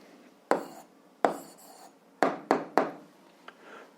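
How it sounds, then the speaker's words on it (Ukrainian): Pen strokes on paper during a seventh-grade algebra exercise, several short scratchy bursts with pauses between, close and fairly quiet, with no talking. "Ну що ж, записуємо відповідь"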